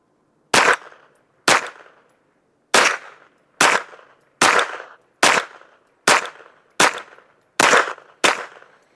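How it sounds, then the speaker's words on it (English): Ten gunshots from a pistol-caliber carbine fired as a group at a target, sharp loud cracks spaced roughly a second apart with short decaying echoes and quiet gaps between, no talking. "Let's shoot a group at the top right target."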